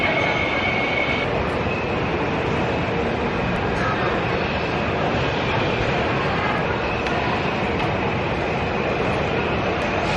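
A morning passenger train rides toward Busan, Korea, giving a steady, continuous rumble and rolling noise throughout with faint voices in the background.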